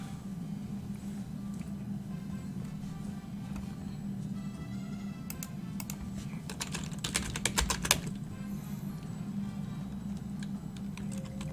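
Loud, rapid typing on a non-mechanical Dell computer keyboard in an office, a steady stream of clicking keystrokes over a constant low hum, with a denser flurry of key hits in the middle.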